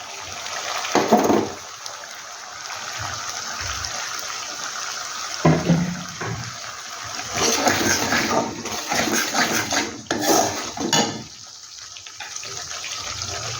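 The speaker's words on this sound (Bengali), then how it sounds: "সামান্য জল দিয়ে দিচ্ছি" A little water is poured into a cooking pot of bottle gourd dumplings, giving several short splashing gushes between quieter stretches, close by and fairly loud.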